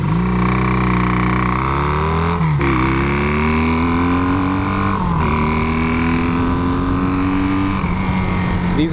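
A 440 motorcycle engine revs up and down repeatedly, loud and close, its pitch climbing in several long sweeps and dropping back between them, with no talk over it.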